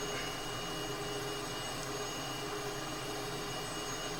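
Cessna T-37B Tweet twin-jet trainer climbing out just after takeoff in a flight simulator, a steady, dense jet engine roar that holds constant and fairly loud throughout with no voices.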